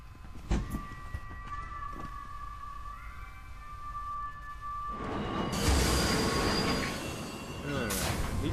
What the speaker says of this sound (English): At least the hell train is kind of cool.